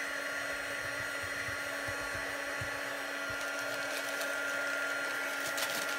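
A handheld embossing heat gun runs steadily through the whole stretch, a loud continuous fan-and-element whoosh with a constant hum, used on a Stampin' Up! card stamped with Versamark and white craft ink.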